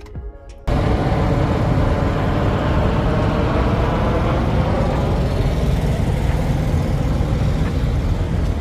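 Loud, steady engine and road roar from a truck driving to a truck stop after unloading, starting abruptly after a short quiet moment and running continuously.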